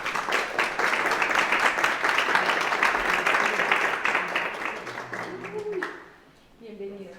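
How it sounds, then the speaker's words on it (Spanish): Audience at a Spanish-language leadership conference applauds a speaker's introduction, dense clapping for about five seconds that fades out, followed by a voice speaking. "Un aplauso, por favor."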